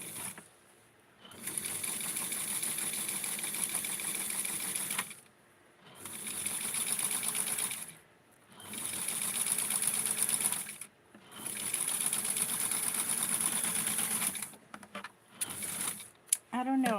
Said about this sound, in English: I'm going to sew on this part here.